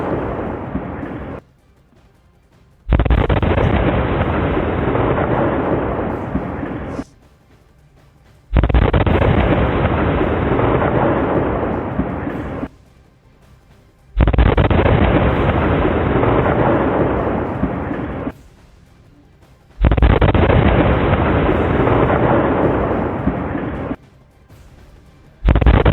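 Ammonium nitrate explosion at the Nowgam police station in Srinagar, Kashmir: a loud, heavy broadband roar comes in four sustained bursts of about four seconds each, separated by short near-silent gaps.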